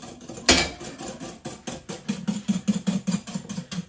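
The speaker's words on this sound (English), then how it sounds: "now it's just about giving it lots and lots of whisking" A cookie mixture with golden syrup is whisked briskly in a bowl, with rapid rhythmic metallic clinks and scrapes, one sharp knock near the start, then a regular beat of strokes close up.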